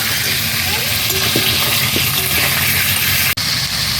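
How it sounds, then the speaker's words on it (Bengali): Shankar fish (stingray) pieces frying in hot oil give a steady, loud, dense sizzle that runs throughout, with one sharp click near the end. "সব মাছগুলো ভাজা হয়ে গেছে"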